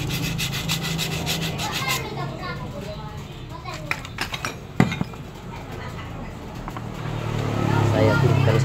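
Sandpaper rubbed by hand over a part from a scooter's CVT (Honda Beat, Vario or PCX), with quick rasping strokes at first, then scattered clinks and scraping, while children and other voices carry on faintly in the background.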